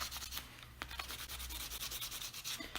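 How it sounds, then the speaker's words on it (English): A buffing block works over a gel-polished nail in quick, repeated scratchy strokes, soft and close-up with a steady back-and-forth rhythm. "You want to break that seal, so you're going to buff that whole nail."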